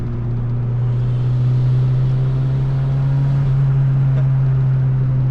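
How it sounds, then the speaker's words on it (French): Turbocharged Mazda MX-5 NA exhaust while driving, a steady, rounded and raspy low drone heard from inside the car, constant and fairly loud with no talk. "L'échappement qui est assez rauque derrière, assez rond."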